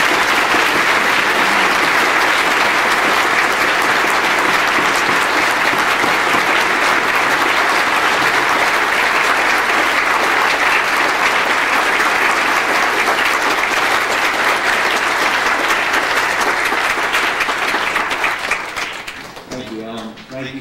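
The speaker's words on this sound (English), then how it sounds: "Would you please join me in thanking Dr. Frist?" Sustained, loud, dense applause from an assembly audience thanking a guest speaker, steady for nearly twenty seconds before thinning out at the end.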